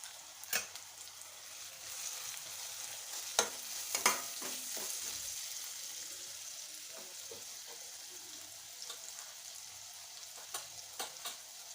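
Spice masala with coriander powder and chili powder fries and is stirred in a pan for a spicy bombil fish dish. A soft, continuous sizzle carries scattered sharp scrapes and clinks of the spoon.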